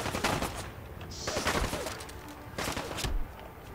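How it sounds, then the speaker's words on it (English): Bursts of automatic gunfire in Fallout 4, rapid rattling shots in two or three clusters, loud and close, with no talking over them. "Somebody shoot at me from behind."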